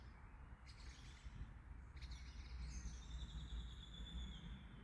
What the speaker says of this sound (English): I feel like I want to just sit here and listen to the birds instead of speaking.